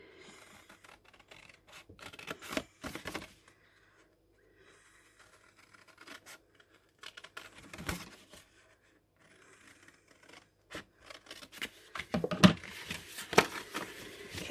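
Paper being cut with scissors for a hinged lidded box, heard as scattered soft snips, scrapes and rustles with quiet gaps, growing busier and louder toward the end.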